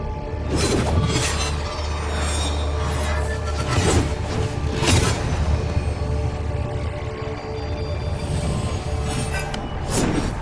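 In the Where Winds Meet video game, the world shatters after a boss is defeated: repeated bright glassy crashes and tinkling shards burst over a sustained low rumble, several sharp impacts spaced across the span.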